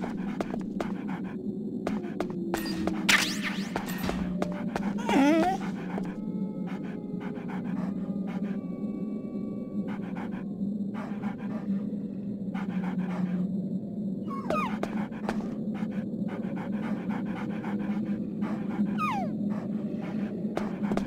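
Dogs pant steadily throughout a Metal Gear Solid: The Twin Snakes game scene, with occasional faint whimpers and short bursts of louder panting in a continuous, close background.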